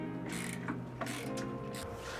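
A hand ratchet turns a bolt in short bursts of quick clicking, four or five close clattering strokes over a steady low hum, with no talk.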